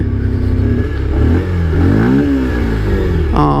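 A Bajaj Pulsar 125 motorcycle engine revving up and down in quick surges, the pitch climbing and falling loudly close by.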